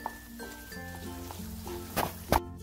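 Semolina sheera stirred in ghee in a pan, soft scraping and gentle sizzle with a few louder spoon clinks against the pan near the end, no talk, with some background tones.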